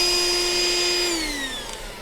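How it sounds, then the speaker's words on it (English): Cordless handheld vacuum cleaner rebuilt with a lithium battery power system, running with a steady high motor whine close by that drops slightly in pitch near the end. "So now my vacuum cleaner works really well."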